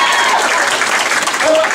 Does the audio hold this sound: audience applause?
yes